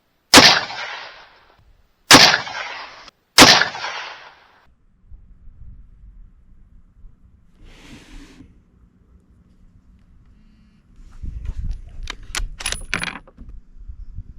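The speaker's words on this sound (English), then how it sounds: "Shooting our 5th group on number 4, guys." Three sharp, loud rifle gunshots ring out about a second apart, each with a short decaying echo, followed by quiet handling noise, a low hum and a burst of clattering near the end.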